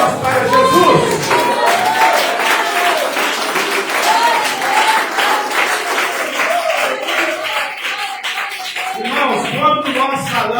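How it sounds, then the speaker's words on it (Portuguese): A church congregation applauding during a service, sustained dense clapping filling the room, with crowd voices and tonal sounds mixed underneath. "dar uma salva de palmas para Jesus"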